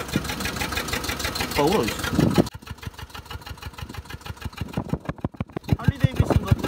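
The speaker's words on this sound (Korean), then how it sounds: "이게 엔진 한번 소리 들어볼까?" A heavily worn, faulty Kia Morning with over 300,000 km runs at idle up close, its rapid uneven rhythmic chugging steady throughout while a person speaks briefly over it.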